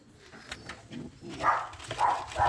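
Mohican pigeons in a coop giving soft, low coos that grow fuller toward the end, near and moderately loud, with faint rustling between calls.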